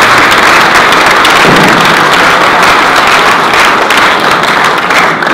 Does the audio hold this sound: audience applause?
yes